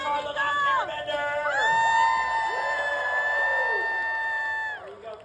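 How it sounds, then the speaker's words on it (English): An audience at an Avatar The Last Airbender panel at Fan Expo Vancouver 2025 cheers loudly with long, high whoops and shouts. The noise swells and holds for several seconds, then fades. "I want to hear your loudest cheers. Everybody applaud."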